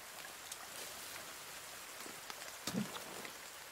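Steady rain patters down in the VR survival game The Forest, a soft, even hiss across the whole stretch with a few brief taps near the end, no talking.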